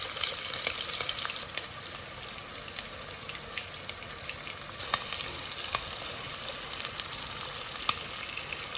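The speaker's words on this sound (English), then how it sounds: "Now I'm adding about 2 finely sliced onions." Two finely sliced onions fry in about half a cup of hot oil for biryani, a steady crackling sizzle with scattered sharp pops throughout, close and fairly loud, with no voices.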